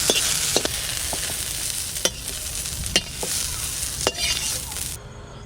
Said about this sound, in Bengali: শাকটা ভাজা হয়ে গেছে তুলে নেব